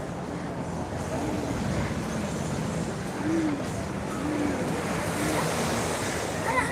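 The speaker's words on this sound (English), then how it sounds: "Let's go look at this edge of Waikiki Beach." Steady surf washing ashore at Waikiki Beach, Hawaii, with a continuous broadband rush of breaking waves and wind noise on the microphone, plus faint murmurs from the busy beach.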